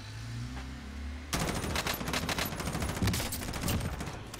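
Rapid automatic gunfire from the Warzone battle royale game rattles out in a sustained close burst of repeated shots, starting abruptly after a quiet stretch.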